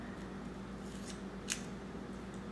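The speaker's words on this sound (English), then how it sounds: "I can't rip painter's tape, so I'm going to go get some scissors." Scissors cut into a roll of painter's tape indoors, giving one sharp snip in the middle of a quiet room with faint rustling around it.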